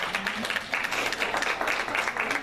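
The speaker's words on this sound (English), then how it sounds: "Let's give another round of applause to yourself for showing up today." Audience applause at a comedy dinner show in Piscataway, New Jersey: a roomful of clapping hands rising and falling steadily for a few seconds, dense and mid-distance, with faint voices mixed underneath.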